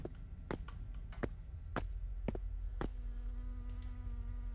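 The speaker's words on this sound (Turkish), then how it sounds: "O yüzden sinekler uçuşuyor." Flies buzz around a rubbish bin in the video game Last Bus Home, their close, faint whine drifting in and out over a quiet background, punctuated by several sharp clicking taps.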